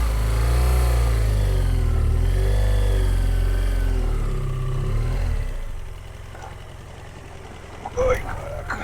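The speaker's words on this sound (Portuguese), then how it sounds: "Vou tentar virar essa moto aqui." A motorcycle engine on a rough, rutted trail revs and wavers as the bike is turned around, loud and close, rising and falling in pitch before dropping to a rough idle with a sharp knock near the end.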